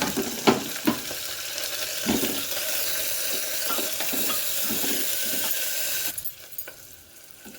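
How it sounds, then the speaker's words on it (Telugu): Ginger garlic paste sizzles and fries in a pan with chillies, a loud continuous hiss with a few stirring knocks, dropping off sharply near the end. "అల్లం వెల్లుల్లి పేస్ట్ వేసేస్తున్నాను"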